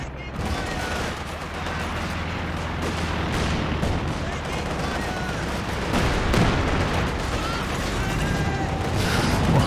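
A chaotic Company of Heroes 2 battle, a WWII strategy game, with dense continuous gunfire and scattered blasts, including a grenade explosion, rumbling at steady loudness throughout with faint voices underneath.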